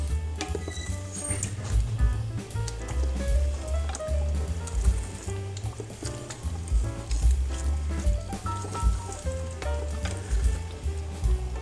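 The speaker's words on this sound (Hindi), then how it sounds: "अब इसको थोड़ी देर के लिए मज़ीद भूनेंगे।" Beef trotters (paya) fry with lemon juice, black pepper and garam masala in a pan, giving a loud, continuous sizzle close by with constant stirring, squelching and occasional clinks of metal on the pan.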